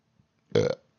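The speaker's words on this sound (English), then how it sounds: "That burp just sent me back." One loud, gurgling human burp, short and up close, standing alone against near silence.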